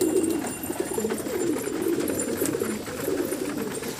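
Several pigeons coo in a loft, a steady overlapping stream of low rolling calls heard up close without any speech.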